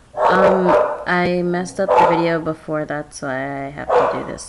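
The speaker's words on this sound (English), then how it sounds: "Sorry for the dog barking. My dog's going crazy." A pet dog barks and yips excitedly in repeated bursts, close and fairly loud, overlapping a person talking throughout.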